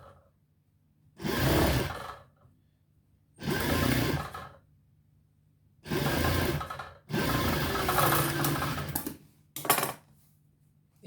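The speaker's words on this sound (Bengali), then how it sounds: "একটা এক চাপ সেলাই দেব।" A sewing machine stitches a side pocket onto trousers in five separate loud, close runs, each a buzzing burst of a second or two with silent pauses between; the fourth run lasts longest and the last is brief.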